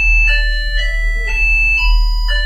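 An OctoNoise synthesizer plays a slowed-down old-style ringtone melody: bright, electronic beeping tones in slow, evenly spaced notes over a low steady hum, loud and alone.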